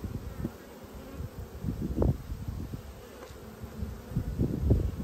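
Honey bees buzz steadily around an opened hive during an inspection, a close, continuous droning hum that swells slightly in a few spots, with no talking.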